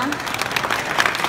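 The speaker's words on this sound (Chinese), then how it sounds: "那我们这边是不是也再给我们孙大哥一个掌声好吗？" Audience applause fills the hall at the Gunpla Builders World Cup 2015 Taiwan awards ceremony, a steady, dense clapping that holds for the whole moment, with speech present.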